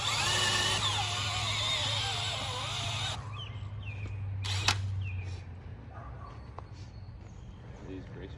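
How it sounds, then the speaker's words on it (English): A power drill whines steadily for about three seconds while boring holes in a raised garden bed, then stops, leaving a soft background hum, a few faint clicks and a sharp knock. "drill holes."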